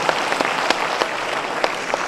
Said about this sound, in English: that deserves a huge round of applause for sir